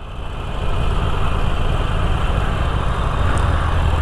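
A heavy truck engine idles steadily with a deep, continuous low rumble, loud and close, with no speech.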